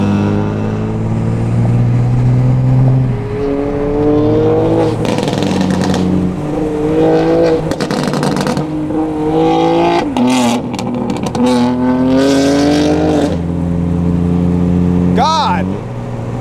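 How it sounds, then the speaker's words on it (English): Loud BMW G80 M3 with a modified exhaust revs and accelerates hard, its deep roar rising and falling in repeated pulls close by, with excited voices talking over it throughout. "I can't even hear my car because his car's so loud."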